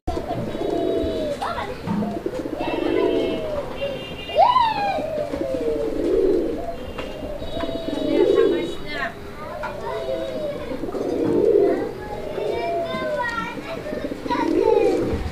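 Black mukhi pigeons coo close by in repeated, rolling calls, with children's voices and chatter mixed in the background.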